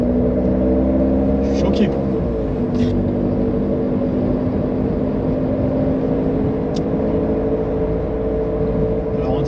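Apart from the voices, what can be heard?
Renault Mégane Coupé 1.9 dTi diesel engine noise while driving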